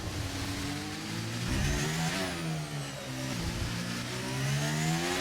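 A race car engine in a Monaco racing video game revs steadily through a lap, its pitch rising and falling with gear changes, moderately loud with no talking.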